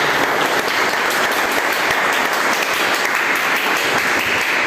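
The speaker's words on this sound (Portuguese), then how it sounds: "Vamos aplaudir a palavra do Senhor." A congregation in a church service applauds after a scripture reading, loud dense clapping from a large crowd filling the space continuously without pauses or speech.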